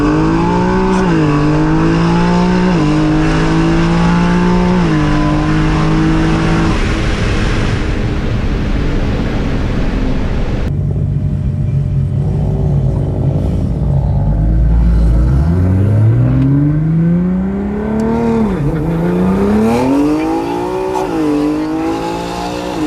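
A Nissan R35 GTR on a high-torque map accelerates hard in a roll race run, its loud engine pitch climbing and dropping through several gear changes before easing off and building again.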